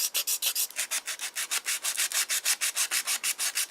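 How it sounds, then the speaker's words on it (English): Sandpaper worked back and forth on a plastic model car body around a freshly cut trunk lid, a steady rhythmic rasp of about twenty close, even strokes with no talk. "Sand away, sand away."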